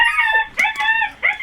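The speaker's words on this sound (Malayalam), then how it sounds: "അതാ ഒരു തെരുവ് പട്ടി." A stray dog howls close by in three drawn-out, wavering cries, each pitched high and separated by short breaths, with almost no other sound around it.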